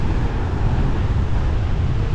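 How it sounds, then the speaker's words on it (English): Strong wind buffets the microphone on a beach on Koh Pha Ngan, a loud, continuous broadband roar with possible surf mixed in and no voices. "Oh mate, that is so windy, man."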